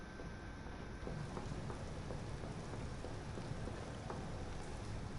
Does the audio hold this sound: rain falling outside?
yes